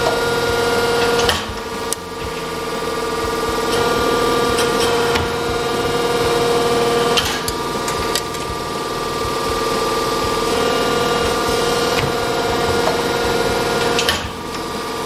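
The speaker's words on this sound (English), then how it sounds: "Fire up the press brake." A Di-Acro 17T 48-inch press brake runs with a steady mechanical hum while bending sheet metal for an electronics project box, with a few sharper clunks punctuating the drone.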